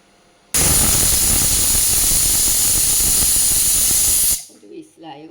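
A pressure cooker whistles loudly while jackfruit cooks, one long continuous steam blast of about four seconds that cuts off abruptly and is followed by faint talk.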